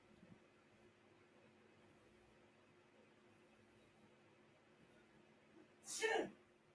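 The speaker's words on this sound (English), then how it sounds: "I heard somebody sneeze." A person sneezes once near the end, a short sharp burst rising out of quiet room noise during a movie watch party.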